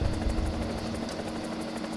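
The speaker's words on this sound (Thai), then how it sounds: "มันดับเครื่องยนต์ไม่ได้อะเครื่องบินอะ" Aircraft engine droning steadily in the War Thunder combat game, a loud continuous hum with a low tonal band, running alone without talk.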